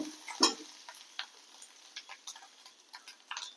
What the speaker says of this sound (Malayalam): കളർ മാറുന്ന വരയ്ക്കും ഒന്ന് വറുത്ത് കൊടുക്കും